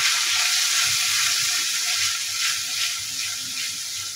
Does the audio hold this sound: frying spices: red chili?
yes